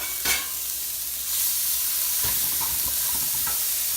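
Onions tossed into a hot pan with no oil, giving a continuous loud sizzle and hiss with a few stirring scrapes, no voices.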